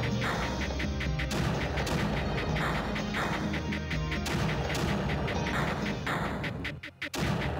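Repeated heavy mortar blasts in the Creeper World strategy game, loud crashing booms arriving every second or so in a steady rhythm over a continuous rumbling bed, briefly dipping near the end.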